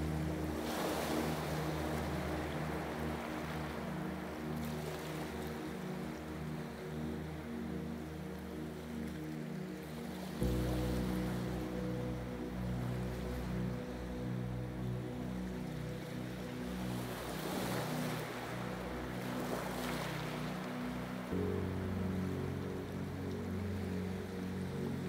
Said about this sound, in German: und dem beruhigenden Rauschen des Meeres.